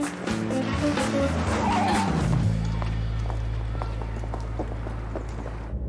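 A car brakes hard and its tires screech into a skid near a pedestrian in a film scene, a loud rising squeal settling into a sustained low tone, with clattering noise over it.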